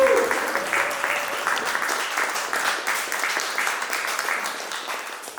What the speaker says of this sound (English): Okay, we have an applause for all our panelists there.